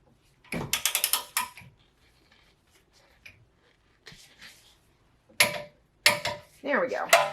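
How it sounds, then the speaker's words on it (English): A hand ratchet torques a castle nut on a Toyota FJ Cruiser suspension ball joint, giving a quick burst of loud close clicking followed by quieter pauses and further short ratchet bursts, with some talking. "It's another castle nut. So we're going to go ahead and torque that"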